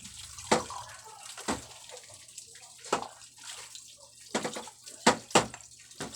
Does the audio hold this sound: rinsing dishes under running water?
yes